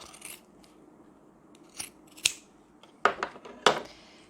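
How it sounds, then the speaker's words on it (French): Pinking shears cut through fabric in several short, crisp snips, with a few quieter scrapes between and two louder close cuts near the end. "Je viens découper avec le ciseau cranteur."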